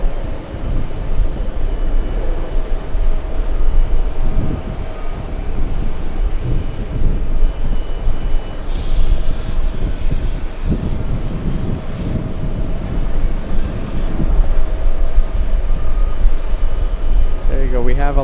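An American Airlines plane flying in from Heathrow on final approach roars steadily and loudly for the whole stretch, a broad continuous engine rumble with voices talking faintly underneath.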